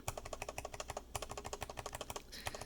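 A mechanical keyboard with a new switch design and PETG keycaps being typed on in a quick, steady run of close, fairly quiet keystrokes with a deep, thocky character and no speech.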